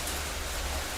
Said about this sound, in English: this is a very heavy rain